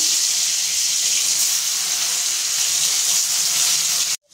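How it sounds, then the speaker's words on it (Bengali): Pieces of pointed gourd fry in mustard oil in a wok, giving a loud, steady broadband sizzle up close that cuts off abruptly at the end. "আমি কড়াতে দিয়ে দিচ্ছি সরষের তেল। রান্নাটা সরষের তেলে হবে। পটলগুলো ভেজে নেব।"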